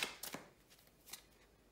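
Tarot cards are shuffled and drawn, giving a few quick, soft riffling flicks close by in a quiet room, faint and brief.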